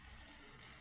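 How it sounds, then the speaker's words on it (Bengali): Water poured from a freshly rinsed plate into a pan of dheki shak chorchori with sugar and ground mustard, a brief steady splashing gush close by with no talk. "প্লেটটা ধুয়ে একটু জল দিলাম।"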